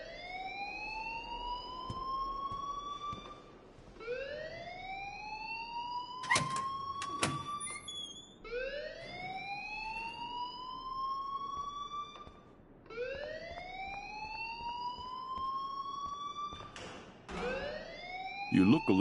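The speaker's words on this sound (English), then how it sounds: "please turn off that alarm since that's your job" A rising, wailing siren-style alarm repeats in long sweeping cycles through a school setting in Life Is Strange, loud and continuous, with a few sharp bangs partway through.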